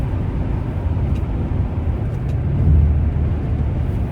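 A 1975 Pontiac Grand Prix V8 droning steadily from inside the cabin while driving, a low continuous rumble that swells slightly as it downshifts, no voices.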